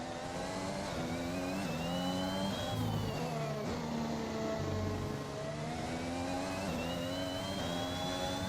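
A Formula 1 car engine in the F1 video game screams at high revs, rising and dropping in pitch through gear changes in a continuous loud whine, with no talking.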